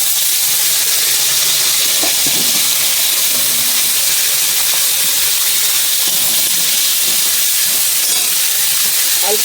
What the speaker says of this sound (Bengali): ওই মাছের তেলেই আমি ভেন্ডিগুলো ভেজে নেবো ভালো করে।